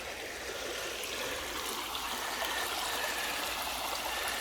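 Creek water flows steadily over gravel and bedrock in West Virginia, a continuous close rushing and trickling hiss with no breaks or voices.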